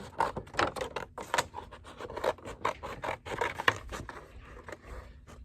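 Scissors cut out paper dolls in quick, uneven bursts of crisp snips and rustling paper, close and quiet, slowing toward the end.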